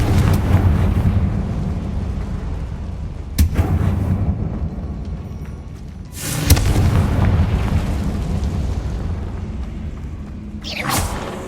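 Spell explosions in the Hogwarts Legacy video game go off as three booming blasts spaced a few seconds apart, each a sharp burst that fades into a rumbling tail over steady game ambience.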